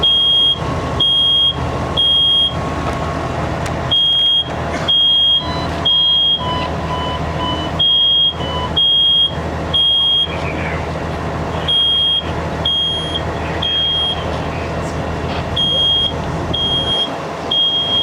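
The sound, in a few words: smoke alarm sounding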